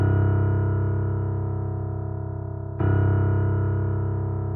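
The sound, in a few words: low bass notes on keys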